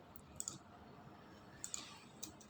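Faint, sparse clicks from a computer keyboard and mouse, a few isolated taps spread out over a quiet room background with no talking.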